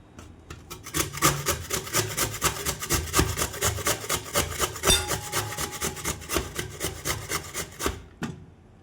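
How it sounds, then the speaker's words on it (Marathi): Beetroot rubbed against a coarse, thick-holed kitchen grater gives a steady run of close, rhythmic rasping strokes, roughly two or three per second, without any talking. "आपल्याला किसणीच्या साहाय्याने किसून घ्यायचं आहे"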